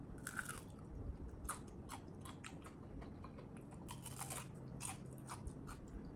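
Crispy Korean vegetable pancake (chaejeon) made with frying and pancake batter mixes is bitten and chewed, giving a string of sharp, close crunches and crackles spread across several seconds against a faint background hiss.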